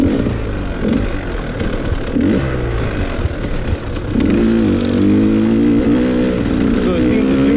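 A KTM 150 XC-W two-stroke dirt bike engine runs steadily through the whole stretch, its pitch rising and settling in revs, with people talking over it.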